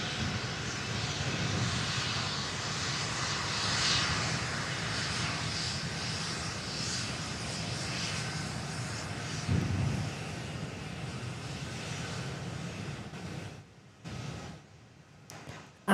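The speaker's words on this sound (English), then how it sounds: "Qantas 330 isn't far away either." A Qantas Airbus A330 jet airliner at Perth Airport gives a steady, broad engine roar that fills the air at moderate distance. The sound holds evenly and then fades away near the end.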